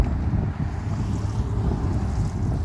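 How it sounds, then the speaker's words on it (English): Strong wind blows outdoors in a valley, a constant loud rush buffeting the microphone with no pauses or voices. "we got some wind here"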